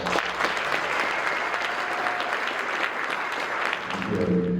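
An audience at a 2025 LEAD annual meeting at Bella Collina gives sustained, full applause, a loud, even roar of many hands clapping that carries on for several seconds and begins to taper near the end.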